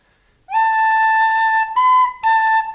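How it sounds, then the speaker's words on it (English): An Irish tin whistle, slightly blocked, plays a slow tune during a traditional lesson: clear, close, sustained notes with a bright breathy edge, brief breaks between phrases, and no talking. "Sorry, whistle's a bit blocked, we'll go again."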